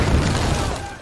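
A loud, close explosion from a Korean war film booms in a heavy low-frequency burst that rumbles and slowly fades over about a second.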